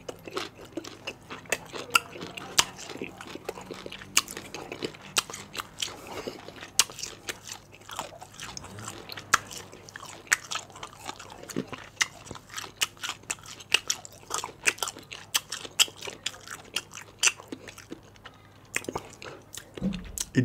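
African star apple fruit, agbalumo, is bitten and chewed close to the mic, with wet crunches and sticky clicks repeating steadily for a long stretch, no talking.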